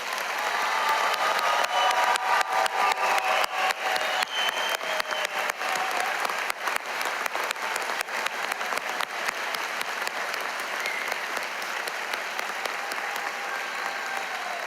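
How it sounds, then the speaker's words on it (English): A graduation audience applauds the new doctors of chiropractic at the Parker University ceremony, a long, even round of clapping from a large crowd in a hall, steady for nearly fifteen seconds and easing slightly near the end. "Please join me in a round of applause for all of our doctors of chiropractic"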